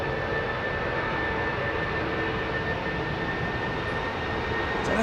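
Steady jet roar from aircraft departing Heathrow Airport under stormy skies, a broad continuous rumble holding even in loudness throughout, with no voices.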